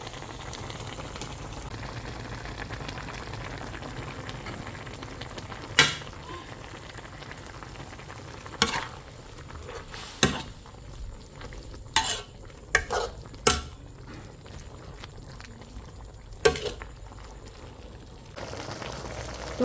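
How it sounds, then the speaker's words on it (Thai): Stir-frying holy basil for pad kaphrao, with a steady low sizzle and soft stirring throughout and several sharp scraping clatters of a utensil against the pan, no talking. "ผัดกะเพราครับ"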